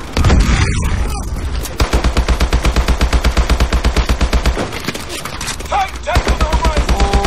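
Rapid automatic gunfire from Call of Duty Advanced Warfare rattles loudly in long bursts, with close repeated shots and a brief pause between volleys.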